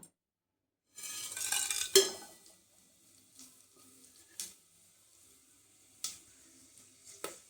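Whole biryani spices crackling in hot oil in a pan for vegetable rice, starting with a burst of sizzling, then scattered sharp pops and clinks fading to quiet.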